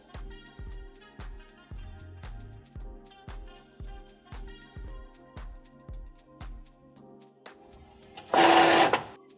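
A Cricut Maker 3 cutting machine cuts out letter backing with a rapid, regular series of mechanical thumps and whirs, close and fairly quiet, ending in a brief louder buzzing burst.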